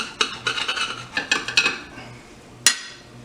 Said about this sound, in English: Let's grab a knife here. Cut that bad boy in half.